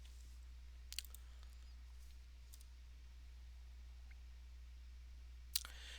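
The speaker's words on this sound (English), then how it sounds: "So I'm clicking through here just so you can" A computer mouse clicks a few times, faint and sharp, at a keyboard and mouse setup while navigating a Bloomberg Terminal, with long quiet gaps and a low hum between the clicks.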